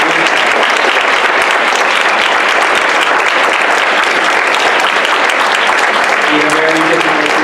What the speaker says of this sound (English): I'd like to everyone give them an applause.